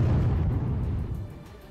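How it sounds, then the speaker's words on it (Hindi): A controlled detonation set off by Ukrainian soldiers to destroy Russian bombs, heard as a heavy, low rumbling boom that rolls on and slowly fades, loud and distant-sounding, with no voices. "कुछ ही सेकंड में वहां जोरदार धमाका हुआ,"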